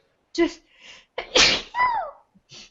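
A single loud, close sneeze bursts out, with short bits of nearby talk before and after it.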